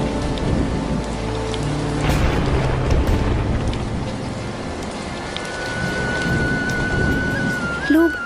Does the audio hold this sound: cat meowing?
no